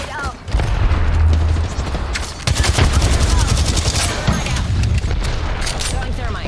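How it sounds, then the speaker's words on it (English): Gunfire and explosions fill a hectic first-person shooter match as an arc star grenade is thrown, with loud bursts and crackling booms running continuously for several seconds while a voice talks over the action. "Tossing an arc star. Grenade out."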